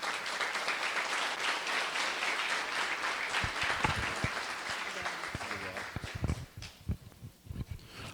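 Audience in a lecture hall applauds a professor's welcome at a talk on the Farroupilha Revolution, steady dense clapping that thins out near the end into scattered claps.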